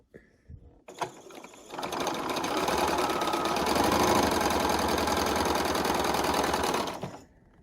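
A sewing machine stitches a quilt piece for a Southwest Snowball quilt in one steady, close run of several seconds, after a few clicks of handling at the start.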